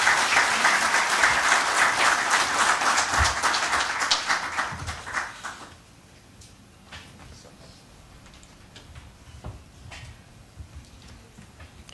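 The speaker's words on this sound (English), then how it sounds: "A thunderous applause, ladies and gentlemen, for our Defence Minister" An audience at a defence-sector conference for small businesses claps loudly for the Defence Minister. The dense applause lasts about five seconds, then thins to a few scattered claps and quiet room noise.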